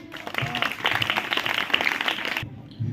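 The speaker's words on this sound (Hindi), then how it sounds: "जोरदार ताली बजाइए।" An audience applauds a student's speech at a school event, a thick clapping roar that carries steadily and then cuts off sharply near the end, with a voice briefly heard after.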